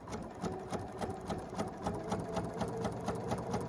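A sewing machine stitches fabric steadily, its needle tapping in a fast, even rhythm with a soft mechanical hum throughout, close and moderately quiet.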